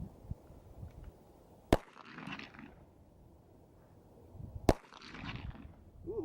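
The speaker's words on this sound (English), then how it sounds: "We're gonna fire till we run out of ammo, and we'll see what happens." A SCCY CPX-2 pistol fires at an outdoor range from 30 feet, two sharp, isolated reports several seconds apart, each followed by a short ringing tail over quiet background.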